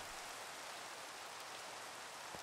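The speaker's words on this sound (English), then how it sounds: "Oh, great, it's raining." Rain falling in Minecraft, a faint, even hiss of steady rainfall with no break, heard alone without talk.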